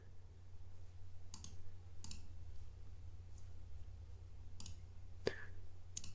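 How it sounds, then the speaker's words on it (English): Computer mouse clicks during editing in Apple Motion, a few faint isolated clicks spaced irregularly over a low steady hum, no speech. "I'm gonna right click on anywhere that you want and add a point"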